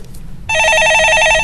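A telephone bell rings loudly and steadily, starting abruptly partway through after a short quiet stretch, during a stock-market call-in show with no talk over it.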